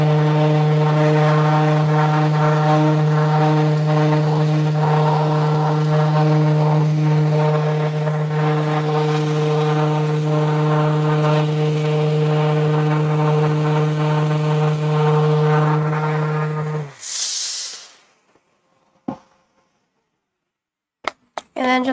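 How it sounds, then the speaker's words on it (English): A handheld electric sander running steadily on wood to take off pen marks, a close, continuous motor hum with strong tonal bands for about 17 seconds, then a short scratchy burst and a few faint clicks as it stops. "I'm just going to take the sander again and just sand off those"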